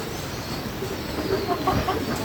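A Sonali hen clucks while laying an egg on a netted farm, soft repeated calls surfacing late amid steady broadband background noise.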